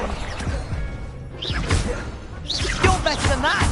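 An Incendio fire spell cast in Hogwarts Legacy, with whooshing bursts and crashing impacts amid busy combat noise and brief voice-like squeals.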